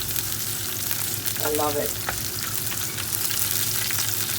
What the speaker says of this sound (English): you just saute the ginger and chili a little bit before adding in the onions